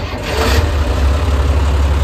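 A cold four-wheel-drive tractor engine, fitted with a front loader bucket and bale spear, runs close by in a loud, steady, low rumble with no speech.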